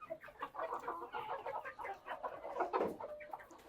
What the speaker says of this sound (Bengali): এই ব্লকে হচ্ছে শুধু মোরগগুলো